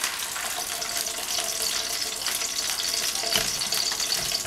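Fajitas sizzling and bubbling in a hot skillet, a continuous crackling hiss with occasional louder pops and stirring.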